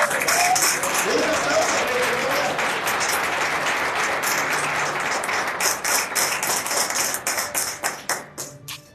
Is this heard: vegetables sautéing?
no